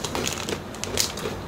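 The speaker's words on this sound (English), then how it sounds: "another crinkle cut potato chip" Crunchy crinkle-cut potato chip being chewed close up, a dense run of crackling crunches for about a second and a half.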